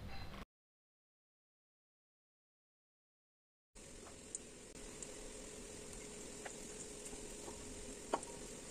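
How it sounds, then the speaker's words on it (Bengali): Chicken shami kebabs fry slowly in oil over a low flame, giving a soft, steady sizzle close by with a few faint pops and clinks. A brief gap of silence comes before the frying sound. "তাই লো ফ্লেমে এটাকে আস্তে আস্তে ফ্রাই করতে হবে"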